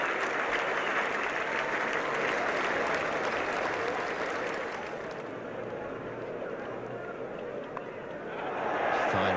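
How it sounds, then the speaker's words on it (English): A big cricket crowd at a 1999 World Cup match between Australia and the West Indies applauds a batsman. The clapping is broad and continuous, dips slightly midway and swells again at the end. "he's getting a very good hand from this big crowd"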